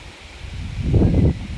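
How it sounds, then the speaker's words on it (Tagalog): Strong wind gusts blowing hard against the microphone by a riverside, a low rushing roar that swells midway and stays strong, with some rustling. "Ang lakas ng hangin, oh."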